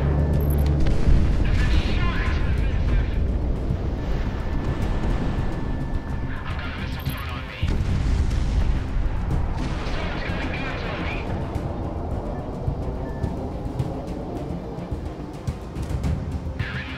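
Aircraft guns fire in the Project Wingman video game amid a dense, continuous roar of jet engines and booming impacts, with radio-style voices talking over the combat.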